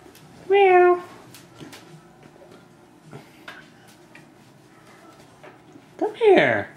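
A pet cat meows twice at home during play, a short harmonic call near the start and a louder, rising one at the end, with faint room noise between.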